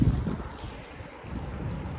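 River water rushes steadily over a water break on the Saxons River upstream of Hall Bridge in Rockingham, Vermont, near ice, heard as a constant broadband wash with gusty low-end wind buffeting the microphone.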